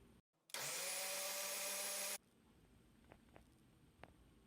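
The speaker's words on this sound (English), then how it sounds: "we are going to blend it on high until there are no more chunks of leaves" Cabbage leaves blending on high in a blender, a loud steady whir that starts abruptly and cuts off after under two seconds, followed by quiet with a few small clicks.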